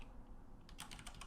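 Brief burst of quick keystrokes on a computer keyboard entering a Minecraft chat command, a short rapid cluster of clicks after a quiet moment, faint and close.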